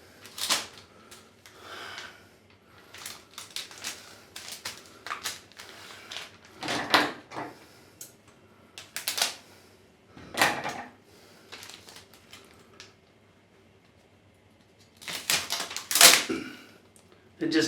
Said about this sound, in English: It just tears this tape.